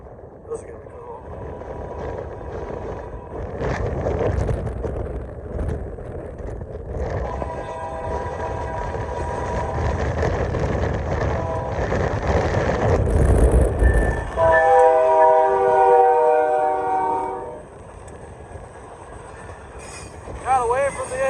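Union Pacific local freight led by three locomotives rolls past on the Janesville, Wisconsin subdivision, a steady loud rumble building as it nears, with a long multi-tone horn blast in the middle and a brief talking voice over the passing train.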